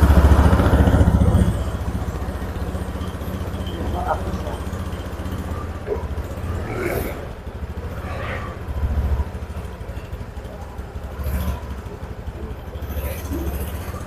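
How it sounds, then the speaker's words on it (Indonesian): Fuel-injected motorcycle engine idles steadily at low revs, a continuous close rumble that begins louder and settles, while a person talks over it. "hidupkan mesin dan biarkan berputar secara stasioner"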